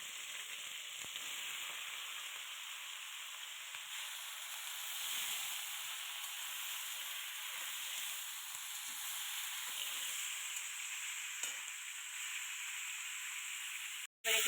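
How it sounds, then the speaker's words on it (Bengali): Crabs frying in oil for a Digha street-style crab kosha, a steady, even hiss and sizzle that runs unbroken for the whole stretch, then cuts off abruptly. "এবার আমি এই ক্যাকড়াগুলো ভেজে নেব"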